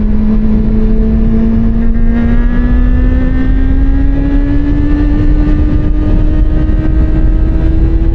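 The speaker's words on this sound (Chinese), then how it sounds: "如果把转速继续拉高，共振的声音会减小，但声浪还是有点嘈杂" A Cfmoto 500SR motorcycle engine revs hard at high rpm, its pitch climbing steadily in one long pull, loud and close with a raspy, slightly noisy exhaust note and no talk.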